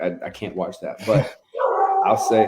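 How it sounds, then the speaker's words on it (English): A dog barks and whimpers in the background of an interview, short yips rising behind a voice as he keeps talking. "pardon the dog in the background."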